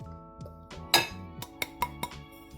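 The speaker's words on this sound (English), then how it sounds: "Give that a stir." A spoon stirs flour into a stollen mixture in a bowl, giving a series of bright clinks and scrapes against the bowl. The strokes come in an irregular rhythm, close and fairly clear, with no talking.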